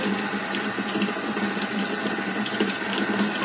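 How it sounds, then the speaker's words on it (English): Water pours steadily from a newly installed kitchen faucet into the sink, a loud, constant rushing hiss that stays even throughout with no talking over it. "Let the water run. This gives you a good test if this thing is working or not."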